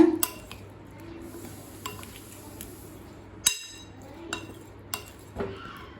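Clinking and scraping of utensils against a bowl, with a few sharp knocks and clatters as potato slices are tossed and mixed close by.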